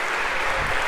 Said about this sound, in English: One more round of applause if we could for our volunteers.